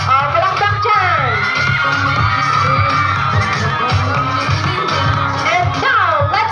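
A crowd at a gay beauty pageant cheers, whoops and shouts loudly after a candidate's presentation, a dense, lively roar of voices that continues throughout.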